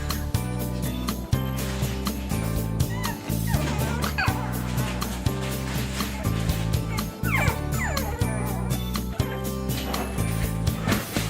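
A household of dogs, including an old blind and mostly deaf dog and a mother dog with puppies, barking in repeated loud yips and bow-wows mixed with whimpers, close and insistent, over steady background music.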